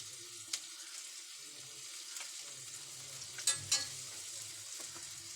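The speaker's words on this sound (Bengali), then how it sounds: "মাছের মাথাগুলোর সাথে পেঁয়াজগুলো ভালো করে ভেজে নিচ্ছি।" Fish heads fry with onions in oil for a Bengali bottle gourd dish, a soft continuous sizzle with a few clinking stirring taps standing out partway through.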